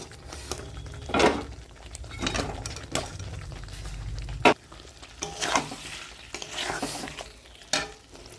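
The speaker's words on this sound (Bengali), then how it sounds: "এবার চিকেনগুলো দিয়ে দেবো।" Chicken pieces hitting a hot pan and frying, with a steady low sizzle broken by several sharp clattering stirs and scrapes of a spatula against the pan, close and fairly quiet throughout.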